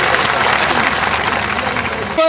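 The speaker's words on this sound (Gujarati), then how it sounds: "જોરદાર તાળીઓથી એમની શુભેચ્છા વધાવી લઈએ." Loud, dense applause from a crowd at a political public meeting, continuous clapping close up that stops abruptly at the end.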